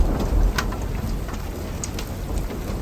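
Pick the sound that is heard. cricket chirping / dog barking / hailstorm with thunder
hailstorm with thunder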